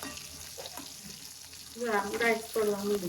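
Stuffed gunda sambharo, stuffed gunda cooked in a pan, is turned over, giving a steady close sizzle and frying crackle, with a voice speaking over the second half.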